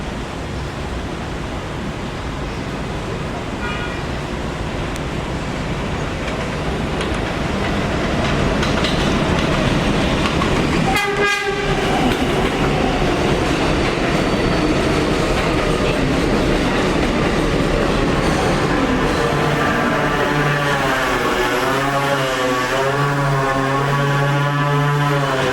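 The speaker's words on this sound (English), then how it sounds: "There is a local 4 train to Kingsbridge Avenue. Approaching the station, please stand away from the platform edge." An R142-series 4 train on the New York City subway pulls into an elevated Jerome Avenue station, a steady loud roar of wheels and rail clatter building and holding, with a brief break midway and squealing brake tones rising near the end.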